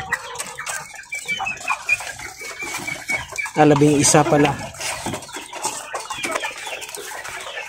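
Pet chickens, including a rooster, clucking in a backyard flock, with repeated close clucks and a louder burst midway, while a person talks throughout.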